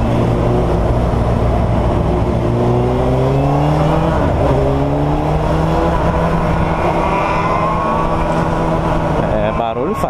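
A Honda CBR 600F sport motorcycle revs on a Sunday road ride, its engine pitch climbing and falling steadily and loud and close throughout, with wind buffeting and a voice talking over it.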